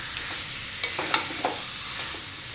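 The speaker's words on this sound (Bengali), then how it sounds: "এবারে দেখো আমি ম্যারিনেট করা মাংসটাকে এর মধ্যে দিয়ে দিচ্ছি।" Marinated mutton sizzles steadily in hot oil in a pan while a spoon stirs it, with several distinct scraping clicks rising over the continuous close frying hiss.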